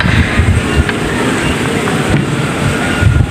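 Computerized embroidery machine running after a needle position error was cleared, giving a loud, steady, close mechanical whir and rumble that continues without a break.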